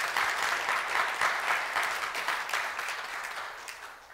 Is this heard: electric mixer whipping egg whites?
no